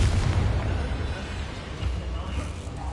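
A Confringo blasting spell goes off in Hogwarts Legacy, a dense, rumbling boom that rolls steadily through the game's mix with a voice heard alongside it.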